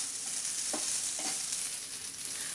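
Leftover idli pieces frying in a pan with salt being stirred in, giving a steady bright sizzle with two short scraping stirs partway through, close and without talk.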